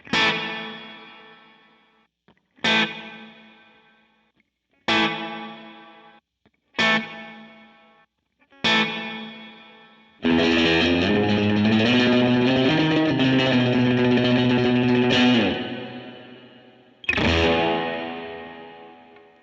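An electric guitar runs through a Line 6 Helix with spring reverb placed before the amp: five loud strummed chords ring out and decay with a splashy tail, then a long sustained, distorted passage and one more strike.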